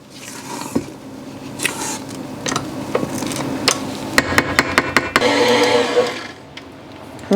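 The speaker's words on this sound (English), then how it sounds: "right now I'm done with my electric mixer" An electric mixer beats apple coffee cake batter in a bowl, with scattered clacks and knocks against the bowl followed by a louder, steady whirring burst near the end.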